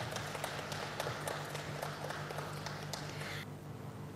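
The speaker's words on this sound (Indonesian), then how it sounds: "berikan tepuk tangan yang meriah" An audience claps at an anniversary ceremony for a capital market association, a steady ripple of applause that stops abruptly near the end.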